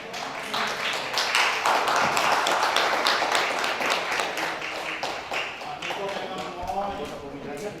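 A meeting hall at a church synod session breaks into applause for the chair and participants, a steady patter of many hands clapping that fades toward the end under a speaking voice.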